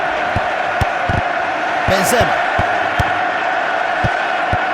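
A football stadium crowd cheers and roars in support of the players, a steady wash of noise sitting under a commentator's continuous talk.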